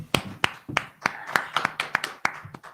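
Several people clap their hands in an irregular run of sharp, fairly close claps during an evening scripture class, with little else heard.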